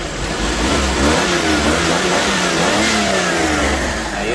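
A carbureted Suzuki F6A engine with a weak, uneven idle revs steadily and close up for several seconds, its droning roar rising and falling without any talking.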